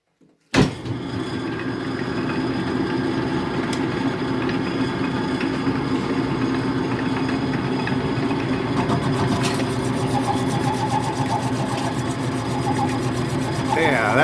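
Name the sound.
Logan metal lathe running, cutting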